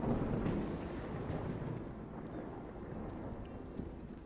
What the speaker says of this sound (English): It's going to rain again.